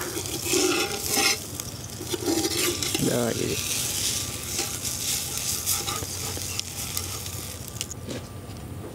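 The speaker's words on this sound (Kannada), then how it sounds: "ಇನ್ನೀಗ ನೀರು ದೋಸೆ ಎರೆದುಕೊಳ್ಬೋದು." Thin neer dosa batter sizzles on an iron griddle greased with ghee over a village fire, a steady close frying hiss with utensil clinks and scrapes. A short spoken phrase comes near the end.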